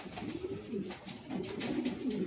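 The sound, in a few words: pigeon cooing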